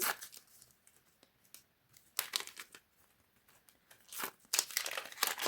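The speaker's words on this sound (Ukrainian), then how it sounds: "Давайте відкриємо відразу два пакети." Quiet, close crinkling and ripping as two homemade Minecraft paper surprise packets are torn open, in irregular bursts with brief pauses.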